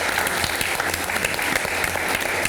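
Audience applause at a televised reality show: loud, continuous clapping fills the whole short span, with a steady thumping rhythm underneath.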